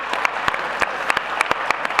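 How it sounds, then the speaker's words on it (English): An audience at a festival closing session applauds steadily, with dense, moderately loud clapping that continues for two seconds without talk. "a round of applause to the D-School team"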